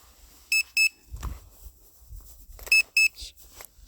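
Zino Mini Pro drone controller sounding its low-battery alert in cold weather: two separate pairs of short, sharp electronic beeps, loud and close, with faint rustling and handling noise in the gaps.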